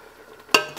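Pomona's pectin and stevia being stirred into a boiling pot of preserves: a faint simmering bed, then one sharp nearby clatter of the spoon against the pot, fading over a moment.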